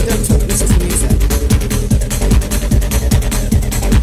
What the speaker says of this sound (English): Raw 303 acid. Yeah. Played live, no less.